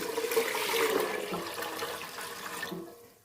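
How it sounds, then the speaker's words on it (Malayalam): Water is poured into an idli steamer pot holding jackfruit seeds: a close, fairly soft rushing pour that swells and then tapers off, with no talking. "അതിലേക്ക് കുറച്ച് കൂടുതൽ വെള്ളം ഒഴിച്ചു കൊടുക്കാം"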